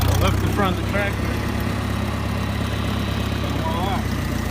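A Minneapolis Moline Jetstar 3 tractor engine runs steadily as it lifts the front of the tractor with its loader bucket, a constant low rumble throughout with someone talking over it.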